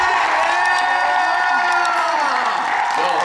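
Dense crowd applause and cheering with whoops at a live trivia show, a steady, loud wash of clapping and shouting that keeps going without pause.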